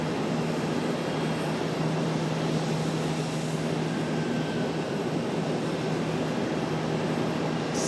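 ERJ regional jet arriving at a busy airport hub, a faint, steady engine rumble and hiss at some distance with low droning tones and no talk.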